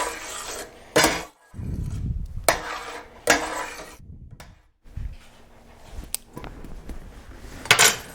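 Soup stirred in a pot as it comes to a boil, a spoon scraping and clinking against the metal in irregular bursts over a low bubbling simmer, close and fairly loud.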